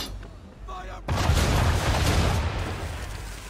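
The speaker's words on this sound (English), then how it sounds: "aim all guns at her bow and do as much damage as possible" Ship cannons fire in the Assassin's Creed 3 naval battle, a sudden loud broadband boom followed by a sustained roaring rumble of gunfire and debris that slowly fades, with a quiet lead-in beforehand.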